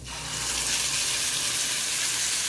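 Bacon frying in a pan for a soup, a loud continuous sizzle and crackle building quickly from the start and holding steady close up.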